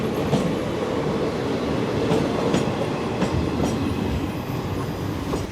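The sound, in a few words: 16344 Amrita Express train running on rails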